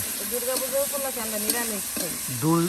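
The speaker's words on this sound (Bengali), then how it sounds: "হলুদ আর লবণ দিয়ে ভেজে নেওয়া হবে" Potatoes fry with turmeric and salt for a vegetarian dish, a soft steady sizzle running beneath someone talking throughout.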